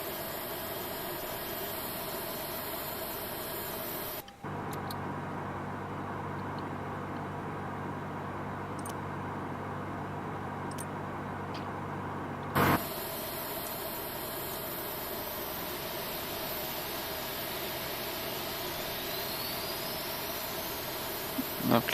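A simulated Airbus A330 engine spooling up during a second-engine start in the Prepar3D flight simulator, a steady broadband jet whine and hum that shifts partway through, with a faint rising tone near the end.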